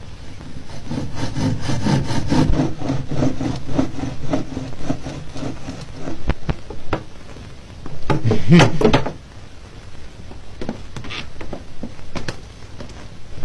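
A handsaw cuts through wood in a garden shed scene, giving steady back-and-forth rasping strokes that start out loud and rhythmic, then break into scattered scrapes and knocks with a brief muffled voice.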